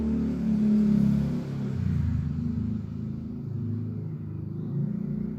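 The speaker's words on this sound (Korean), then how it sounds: "오토바이가 많이 지나가네요" Motor vehicles, likely motorcycles, rumble past outdoors, a loud low drone that swells near the start and slowly fades as the traffic moves off, with no talking.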